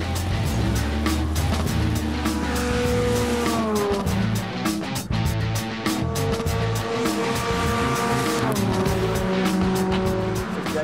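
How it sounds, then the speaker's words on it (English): Petrol-powered Locost race car lapping a circuit, its engine loud and sustained with rising and falling revs through gear changes, and tire squeal audible as it corners. "First up, it's time to try Declan's petrol-powered Locost."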